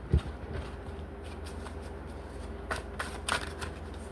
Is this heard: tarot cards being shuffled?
yes